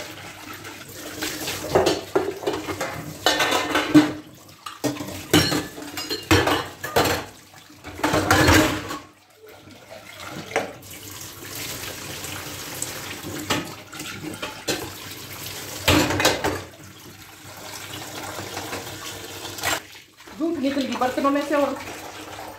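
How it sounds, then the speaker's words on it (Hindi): Dishes, pots and pans being washed by hand under running tap water in a home kitchen, with splashing water and clattering utensils in uneven bursts throughout, fairly close, with some talk. "और तब तक भाई ये बर्तन साफ कर देते हैं जब तक शांत हो रखते हैं।"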